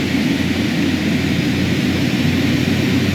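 The turboprop engines of a Carenado King Air B200 in Microsoft Flight Simulator 2020 hum as a loud, steady drone with a broad hiss, continuous and unchanging, with no voices.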